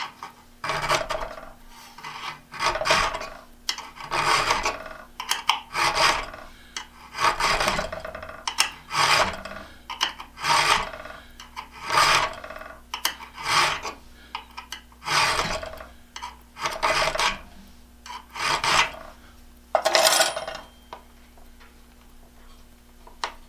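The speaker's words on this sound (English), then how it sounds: "This auger bit file has also got a safe edge on it." A coarse auger bit file rasps against an Irwin Jennings style auger bit in short, rhythmic strokes, about a dozen close scraping passes with brief pauses between them.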